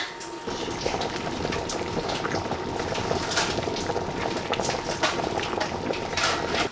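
Steady bubbling and rolling simmer of chicken soup in a pot, a continuous close hiss with small pops throughout.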